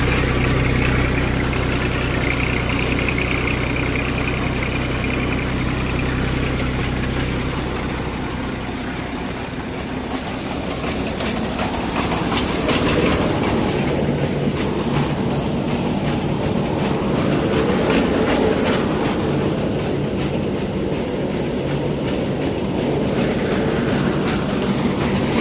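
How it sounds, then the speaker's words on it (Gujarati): A wheat thresher runs with a steady, loud mechanical drone and rumble that holds for the whole stretch, and its churning tone shifts somewhat midway. No one speaks. "17 વાગ્યા 3 વાગે આપણે આ ઠેસર ચાલુ કર્યું છે"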